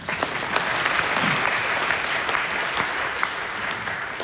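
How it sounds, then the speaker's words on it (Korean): A church congregation applauds during a sermon, with dense, steady clapping that fills the room for several seconds. "박수 한번 칩시다."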